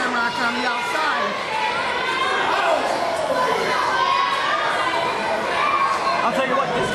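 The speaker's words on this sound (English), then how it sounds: "this crowd is tremendously loud" Loud crowd at an independent wrestling match between Jason Havok and Pat Shamrock, a dense, steady roar of chatter and shouting that fills the whole stretch, with voices rising over it.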